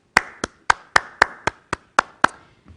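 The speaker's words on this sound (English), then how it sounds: "I want you to clap your hands." A single person's hands clapping nine times in an even, fairly quick rhythm, each clap sharp, close and loud in a quiet room, with a faint soft knock at the end.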